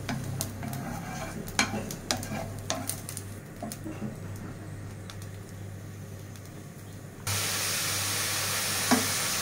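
Green chillies, onion and garlic frying in oil, starting with a soft sizzle and sharp clacks from a stirring utensil, then a sudden, louder steady hiss for the last couple of seconds.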